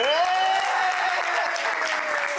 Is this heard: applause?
yes